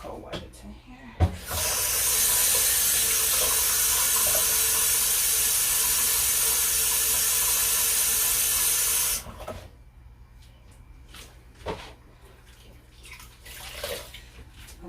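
Kitchen sink faucet running cold water during a deep kitchen clean: a loud, steady broadband rush of water starting abruptly and continuing for about seven seconds, then shutting off, with faint clatter and a voice afterward.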